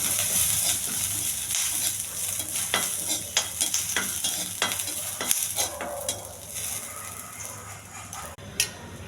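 Cumin and curry leaves fry in hot oil with a steady, bright sizzle and occasional stirring clicks and scrapes throughout.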